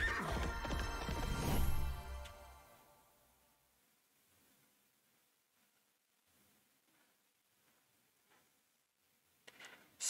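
A horse in the video game Minecraft Legends gives a loud whinny at the start, followed by a clattering crash and fading hoof sounds, then near quiet with a few faint game noises and a brief burst at the end.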